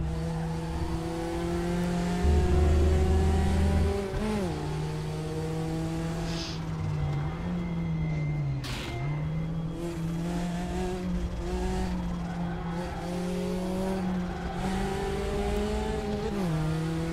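A Porsche race car engine in a driving video game drones steadily and loud, with several gear shifts and rev changes and one brief squeal, and no voices.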